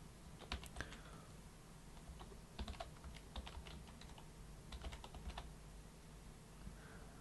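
Someone types a login and password on a computer keyboard during a website registration, giving scattered bursts of crisp key clicks at close range with short pauses between them and no talking.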